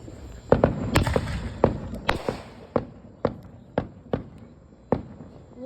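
Fireworks exploding outdoors in a string of sharp, loud booms and cracks, about a dozen bursts at irregular intervals with short rumbling tails, heard alone without talk.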